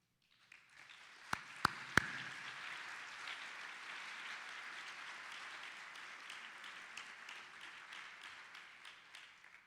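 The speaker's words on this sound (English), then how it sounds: "Another applause for him." Applause for an award recipient at a scientific meeting's closing session: a few sharp nearby claps start it, then a softer, more distant audience clapping rolls on evenly and fades slightly.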